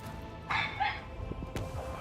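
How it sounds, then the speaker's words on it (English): A neighbour's dog barks in the distance, a few faint yips and barks heard through a microphone during a video game session, low and brief. "There is a dog barking on my end."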